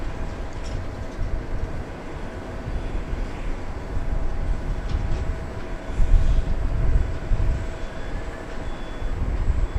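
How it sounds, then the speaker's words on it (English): A Delta Airbus A319 arriving from Atlanta on the far side of Dallas Love Field, a broad low engine rumble that swells and stays steady throughout, heard without talking. "There's a Delta Flight 2780 and the Airbus A319 arriving from"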